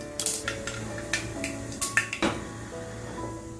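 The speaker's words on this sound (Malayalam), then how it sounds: "കടുക് പൊട്ടി വന്നതിന് ശേഷം" Mustard seeds crackle and pop in hot coconut oil in a pan, a run of sharp, close, irregular snaps over a low steady sizzle, with no talking.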